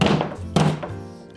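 Two dull thumps sound as a fist punches through a scored sheet of drywall, close and heavy, the second blow following about half a second after the first.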